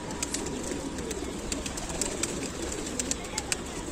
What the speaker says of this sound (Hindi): माशाल्लाह बहुत सुंदर कबूतर दिख रहा